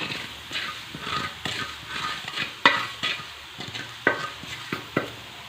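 Ingredients dry roast in a hot iron pan, with repeated stirring scrapes and clinks over a faint crackle at an uneven rhythm, close and moderately quiet with no voices.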